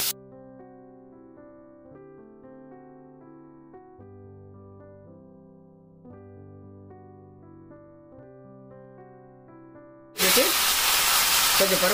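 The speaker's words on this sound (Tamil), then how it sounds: "அடுத்தது நறுக்கின கத்திரிக்காயை போடலாம்." Chopped eggplant goes into hot oil seasoned with asafoetida, and a sudden loud, close sizzle bursts in near the end after a long stretch of calm music.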